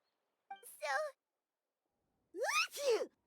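A female character in the game Genshin Impact gasps twice in quick succession, a short breathy intake followed by a louder sneeze-like vocal burst, close and clear against silence.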